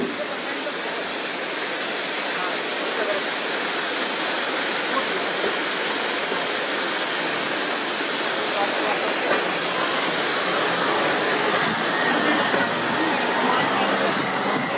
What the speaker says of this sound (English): There's a waterfall dropping hundreds of feet onto the road just round the corner.